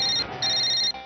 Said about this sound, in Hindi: कितनी देर से फोन बज रहा